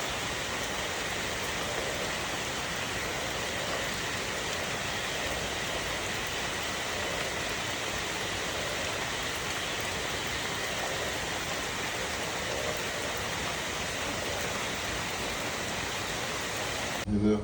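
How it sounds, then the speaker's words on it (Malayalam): Heavy rain falls at night over a rural homestead plot, a dense, steady hiss that stays loud and even from start to finish with no pauses. "ശ്രദ്ധിച്ച് കേട്ടോ കേട്ടോ മഴയുടെ രാത്രി സൗന്ദര്യം"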